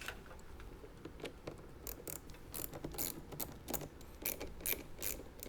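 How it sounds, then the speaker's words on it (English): A 10mm socket wrench ratchets while tightening the battery cable connections on a Jeep Wrangler JK, giving quiet, close, irregular bursts of clicking with small metallic knocks and no talk. "Let's go ahead and connect those to the battery. We're going to use our 10mm socket."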